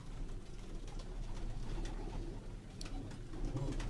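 Sialkoti breed pigeons coo in a low, steady murmur that runs throughout, with several birds calling close by against a constant background hum.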